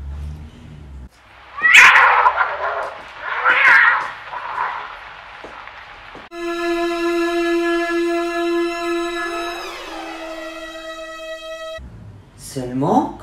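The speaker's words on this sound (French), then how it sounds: "j'ai entendu un bruit, un groufflement de chat apeuré" A frightened cat growls and yowls in a house kitchen, with two loud, rough bursts near the start. Sustained tonal sounds follow, then a final short harsh cry.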